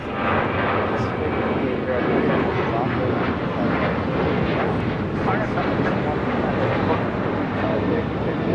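Air New Zealand Boeing 777-300ER arriving at LAX from Auckland, a loud continuous engine roar filling the scene at steady strength, with voices talking underneath.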